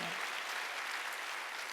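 A church congregation at a Sunday worship service applauds together in a steady, full burst of clapping that fills the room.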